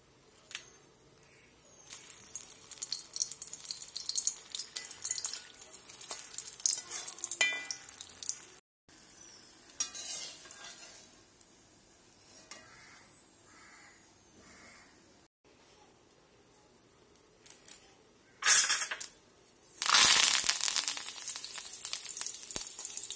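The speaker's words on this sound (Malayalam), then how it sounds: "ഇതിലേക്ക് ആവശ്യമായ 4 വറ്റൽ മുളകും കുറച്ച് കറിവേപ്പിലയും ഒന്ന് വറുത്തെടുക്കണം" Dried red chillies and curry leaves fry in a pan of hot oil for a raw banana and yogurt curry, giving a steady close sizzle that flares into louder bursts of crackle near the end.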